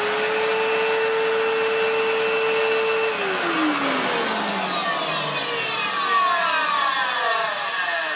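A refurbished Electrolux Cyclone Power Z1910 vacuum cleaner runs close by with a constant airy roar and motor whine. Partway through, the whine's pitch slides steadily downward.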